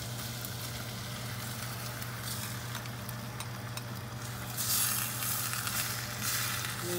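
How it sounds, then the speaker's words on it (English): Chopped tomatoes hit sautéed onions in a hot pan for tomato chutney, giving a steady, close sizzle and frying hiss that swells briefly louder partway through, with no talking. "So now I'm going to add my chopped tomatoes."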